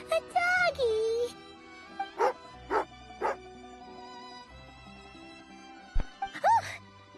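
Tagarin, a dog in Genshin Impact, gives a few short yips and whimpering growl-like sounds, spaced out across the moment, over game music, with a person's sighing voice near the start.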